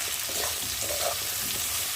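Potatoes fry in oil with ginger, cumin and garlic pastes and spices, giving a steady sizzle while a utensil scrapes as it stirs them close by.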